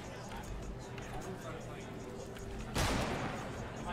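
A single sharp burst of gunfire in the video game Fortnite Battle Royale, rising suddenly near the end over a steady background of game ambience and voice chat.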